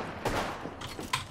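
Two quick bursts of weapon fire in an Apex Legends match, with Flatline and Alternator rifles in use, short and fairly quiet cracks separated by a brief pause.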